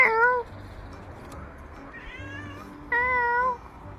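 A cat on a roof gives two clear meows, a short one at the start and a longer one after a pause, with faint background hiss between.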